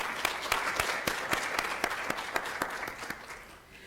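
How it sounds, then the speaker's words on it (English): A room of attendees at a 2017 health policy research summit gives a round of applause for a principal investigator. Individual sharp claps stand out within steady, moderately loud clapping that tapers off toward the end. "Round of applause"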